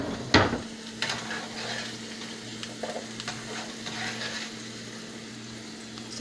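Potatoes sizzling steadily in a frying pan while a spoon stirs and scrapes through them, with a few sharp clinks of metal against the pan early on and a low steady hum underneath.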